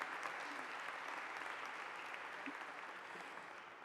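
Applause from a church audience at a graduation ceremony, honouring the staff, a steady, soft wash of many hands clapping at a distance that holds throughout and tapers slightly at the end.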